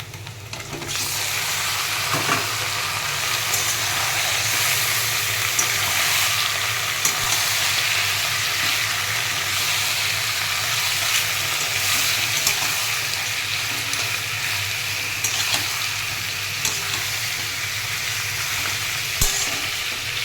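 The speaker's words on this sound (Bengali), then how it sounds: "এবার আমি এর মধ্যে মাটনটা দিয়ে দেবো" A loud, steady sizzle of mutton frying in a pan carries on throughout, with occasional scrapes and knocks of stirring.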